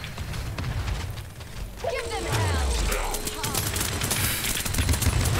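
Gunfire from the hero shooter Paladins, a sustained run of shots with game effects and a descending whoosh layered over continuous battle noise.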